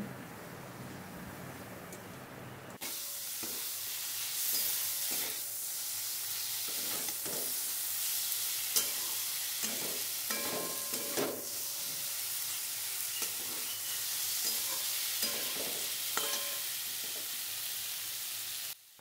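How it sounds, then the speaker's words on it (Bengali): Boiled taro stolons stirred and fried with spices in a pan, giving a steady close sizzle broken by repeated scraping stirs throughout, with no talking. "কচুর লতিগুলো দিয়ে মশলার সাথে ভালো করে মিশিয়ে নিচ্ছি"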